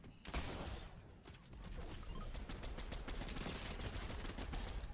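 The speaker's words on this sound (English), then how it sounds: "Someone else is shooting." Gunfire in the Fortnite video game crackles as dense, rapid bursts of shots, faint and somewhat distant, running nearly continuously with short gaps.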